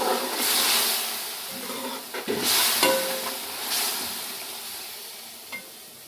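Beef pre-cooked in a pressure cooker is tossed into a hot pan and stir-fried with browned aromatics for a dry Kerala beef roast, a steady close sizzle broken by scraping stirs and a few spatula knocks, with no talking.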